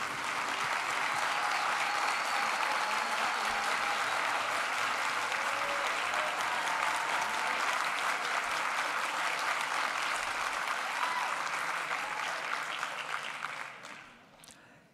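Sustained, dense applause fills a university graduation ceremony hall for theology, philosophy and humanities graduates. It is loud and even throughout, then fades out near the end.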